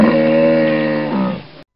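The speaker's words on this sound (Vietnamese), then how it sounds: "Con hà mã." A hippopotamus call: a loud, sustained, harmonic bellowing groan lasting under two seconds, dipping slightly near the end, heard alone without any talk.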